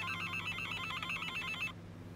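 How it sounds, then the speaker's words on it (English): In the VR game Accounting, an incoming phone call sounds as a fast electronic trilling ringtone, repeating steadily and loudly before it cuts off abruptly near the end. "I've got a call coming in. At least I think it's a call."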